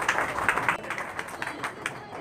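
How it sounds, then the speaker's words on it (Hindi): Audience in an auditorium applauds to welcome Bihar's deputy chief minister at a book-release event, a steady patter of many hands clapping at moderate level with occasional louder bursts throughout. "एक जोरदार तालियों से हम लोग उनका स्वागत करेंगे"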